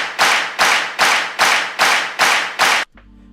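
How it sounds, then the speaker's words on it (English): Seven evenly spaced, punchy stadium-style clap samples from the Kashmir library in a dubstep drum build, each hit loud and close with a short reverb tail, ending abruptly before a low synth tone. "So we got some Kashmir Stadium claps."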